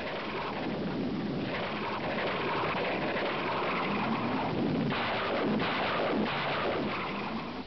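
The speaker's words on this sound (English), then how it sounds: "It was said that ripple firing 24 Zunis was roughly equal to a broadside from a" A ripple salvo of Zuni unguided rockets fired from a carrier jet makes a loud, continuous rumbling roar broken by heavy booming bursts, with no voices.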